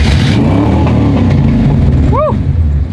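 A car engine roars loudly and steadily, revving with a deep rumble, and a brief rising chirp cuts through near the end.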